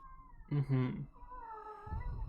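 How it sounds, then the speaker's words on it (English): A kitten meows twice in quick succession, close and fairly loud, followed by someone talking. "Hello, kitten."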